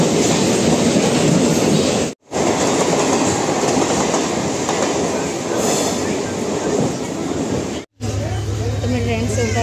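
Train ride with steady loud rumble and rattling wheels, running continuously with two brief cut-outs, then shifting to a quieter interior with faint voices near the end.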